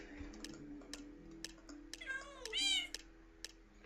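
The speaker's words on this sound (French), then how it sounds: "J'aime bien les petits bruits de chat." Short cat meows from the Minecraft video game, two or three clear, rising and falling calls in the middle, with light ticking clicks and a faint steady game hum underneath.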